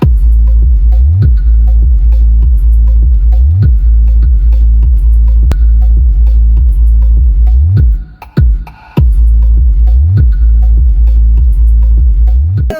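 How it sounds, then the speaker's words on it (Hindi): Bass-boosted songs pound through a JBL 320 party speaker inside a car, a loud, steady throbbing low-end beat with regular pulses, briefly cutting out near the end before resuming. "अभी सारे गाने बेस बूस्टर चला रहे हैं हम"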